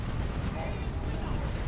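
Plasma cannon fire in a 3v3 Dawn of War 2: Retribution battle, a dense, continuous barrage of blasts and booms mixed with other weapon fire and battlefield noise, loud and unbroken throughout.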